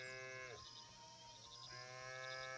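Farm animal calls from the Viking village building game Land of the Vikings, two drawn-out tonal cries separated by a brief quiet gap, sounding at moderate distance over soft ambient game background.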